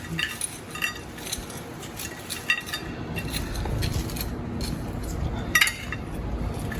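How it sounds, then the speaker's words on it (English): A spoon stirs a chopped candied ginger mixture in a bowl, sending out scraping and clinking strokes in uneven bursts, with faint background noise and no clear speech. "And then we're going to stir it all together."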